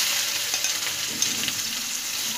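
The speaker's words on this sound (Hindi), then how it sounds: "अब कटी हुई प्याज डालेंगे" Chopped onions hit hot oil and ghee, already seasoned with a bay leaf and a dried red chilli, and crackle in a steady, dense sizzle, with a few faint scrapes over it as they are stirred.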